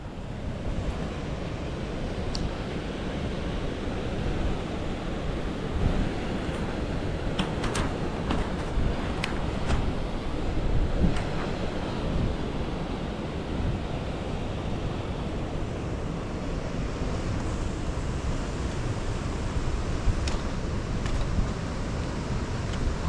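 The waterfall at River Falls on a park walk, a steady broadband rushing roar of falling water with some wind, continuous and fairly loud, with no talking.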